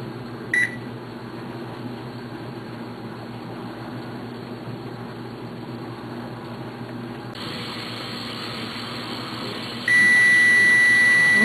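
An appliance timer beeps once briefly near the start, then a longer steady electronic tone sounds near the end over a constant hum, while a pressure cooker with roast beef and potatoes runs.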